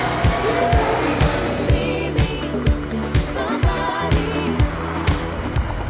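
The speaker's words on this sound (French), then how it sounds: "Ah ouais, j'aime beaucoup ce bruit. Ça, c'est... C'est le son Ferrari typique." Ferrari engine running close by, a steady deep mechanical rumble with evenly spaced pulsing beats throughout and a voice in the background.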